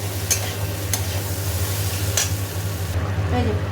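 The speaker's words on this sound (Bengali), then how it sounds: "এবার এটা ভালো করে ভাজবো" Spices frying and being stirred in a pan for an Indian vegetable curry, a steady loud sizzle close by with a few scraping strokes of a spoon, no voices.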